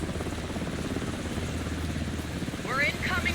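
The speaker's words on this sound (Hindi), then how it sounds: "कोई हेलीकॉप्टर की भी आवाज़ आ रही है।" A helicopter in the video game Alan Wake II drones with a steady, dense rotor and engine rumble throughout. It sits close and fairly loud, and brief game sounds and voice-like chirps appear near the end.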